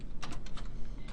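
Quick typing on a computer keyboard, a short run of close, crisp key clicks over a low background hum.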